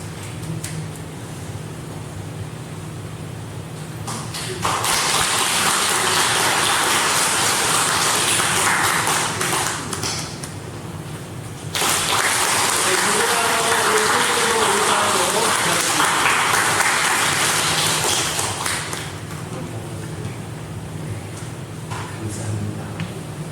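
A church congregation at a Sunday worship service claps in two sustained rounds of applause, a dense, hissy wash of hands lasting several seconds each, separated by a brief lull and fading into quieter room noise.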